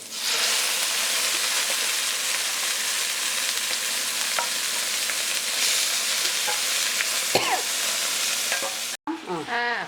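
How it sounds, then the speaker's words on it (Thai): Pork liver stir-fried in a pan with chili and garlic: a steady, loud sizzle and hiss runs throughout, with scraping stirs cutting in. A few metallic clinks come near the end. "เราเอาตับลงนะคะ ผัดให้สุก"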